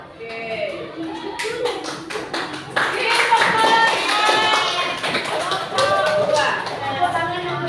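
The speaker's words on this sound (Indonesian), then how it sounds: "Tepuk tangan yang meriah" Classroom applause breaks out in a burst of many hands clapping, loud and sustained for several seconds, with voices mixed in.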